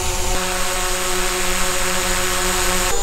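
DJI drone hovering and flying in Follow Me mode, its steady high-pitched rotor whine holding constant and fairly close throughout, with no voices.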